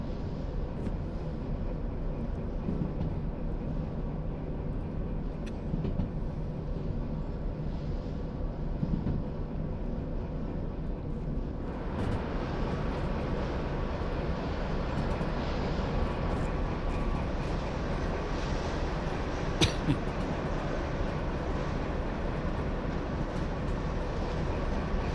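Train running in the railway game Derail Valley, a continuous low rumble with steady rolling noise that grows fuller partway through, carrying on alone without talk.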